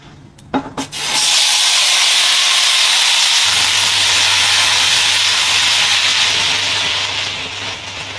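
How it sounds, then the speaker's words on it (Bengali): Okra frying in a pan, opening with a few sharp knocks before a loud, steady rushing hiss of hot oil takes over and holds, close by. "এবারে যে ঢেঁড়স ভাজা করছি।"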